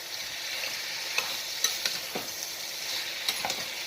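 Chicken pieces fry in a pan, a quiet continuous sizzle with scattered soft pops and stirring clicks, no talking.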